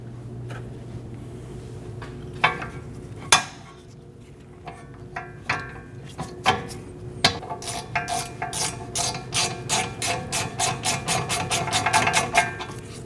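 A hand ratchet drives rear brake caliper bolts on a 2019–2026 Mazda 3, starting with a few scattered clicks and metallic knocks, then settling into a fast, even run of sharp ratcheting clicks close by.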